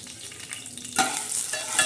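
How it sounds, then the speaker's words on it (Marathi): Curry leaves crackle in hot oil for a tempering, with a loud continuous sizzle that swells sharply partway through and a few quick pops and stirring sounds. "आता हे मस्तपैकी तडा तडा चांगली फोडणी बसत आहे कढीपत्त्याला"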